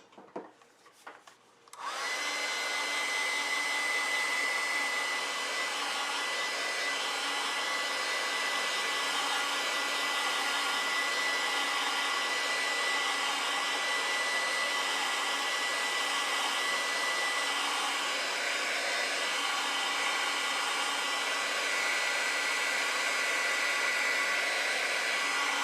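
A hair dryer blowing over a watercolor painting switches on after a couple of seconds of light handling noise, then roars steadily and loudly, close up, for the rest of the clip with no talking.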